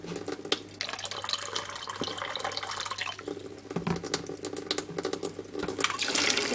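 Cold water runs steadily from a household tap, a close, continuous splashing stream with small gurgles and bursts of spatter, heard alone with no voices.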